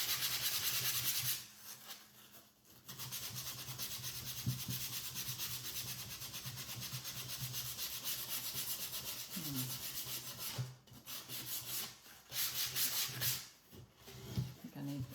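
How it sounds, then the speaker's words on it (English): A painted wooden round sign sanded by hand with fine sandpaper, giving a close, continuous scratchy rubbing in long strokes with a few short pauses. "Just sand that off."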